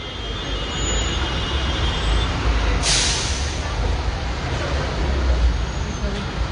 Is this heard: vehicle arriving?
yes